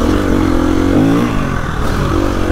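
A KTM EXC-F 250 four-stroke dirt bike engine drones loud and close, holding a steady throaty roar with slight rises and dips in revs throughout.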